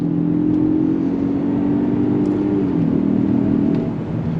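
A 2023 Lincoln Corsair luxury SUV with all-wheel drive accelerates on throttle into a right-hand bend. Its engine gives a steady, fairly loud drone whose pitch dips briefly and then settles, with no voices.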